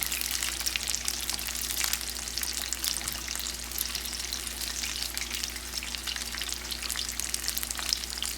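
Panko-coated fish deep frying in hot oil, a steady dense sizzle and crackle running throughout at close range, with a low constant hum beneath.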